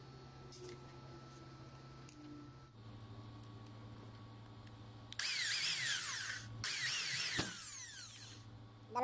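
An electric power drill used while making a plate for a 380 V duplex booster pump control panel: two whirring bursts of a few seconds each after a quiet stretch, moderately close but not loud.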